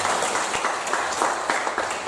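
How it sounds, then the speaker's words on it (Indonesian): A church congregation at a Sunday service claps hands, a lively roomful of clapping with fairly regular rhythmic peaks, close and continuous for a couple of seconds. "Tepuk tangan dong saudara."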